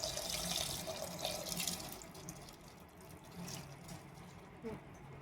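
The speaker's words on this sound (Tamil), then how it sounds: "இப்போ வந்து இந்த ஊற வச்சிருக்கோல அரிசியோட தண்ணி அதை அப்படியே ஊற்ற வேண்டியதாங்க இதில்." Soaking water from rice being poured into a pot of mutton biryani, a steady continuous stream of splashing liquid with slight swells in loudness throughout.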